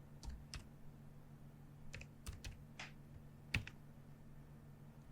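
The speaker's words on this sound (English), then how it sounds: "Okay, let me type it out." Quiet, irregular computer keyboard typing: scattered soft key clicks in short bursts with pauses between, close by and faint, no talk over them.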